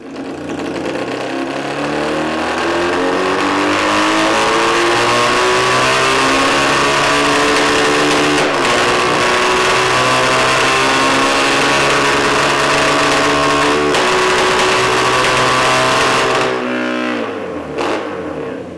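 Honda CL175 motorcycle engine running hard on a dyno, loud continuous buzzy revving with rising pitch, broken by a few sharp cracks of backfire and misfire before the revs drop.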